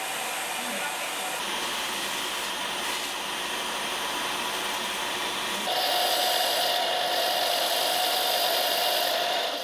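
A power tool grinds along a marked line on a piece of bone, a continuous whirring rasp that shifts louder and brighter partway through as the cut bites harder.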